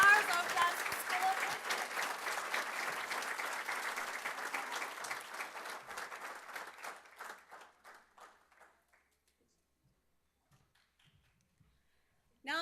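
A crowd at a Student of the Year ceremony applauds, steady and full clapping for about seven seconds that thins into scattered claps and fades into near silence.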